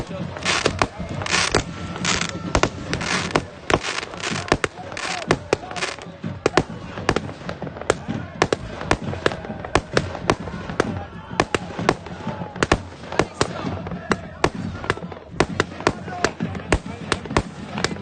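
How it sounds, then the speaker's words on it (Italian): Fireworks and firecrackers crackle and bang nonstop at a football stadium celebration after a Promozione Sicilia match, with dense, loud bursts over a roaring crowd and a commentator talking throughout. "Viene festeggiato con i fuochi d'artificio."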